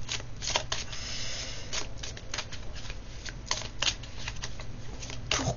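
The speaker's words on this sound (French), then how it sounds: "30 fois plus long de tirer les cartes comme ça." Tarot cards drawn and handled on a table, making repeated close papery flicks, riffles and slaps in quick irregular bursts at low volume.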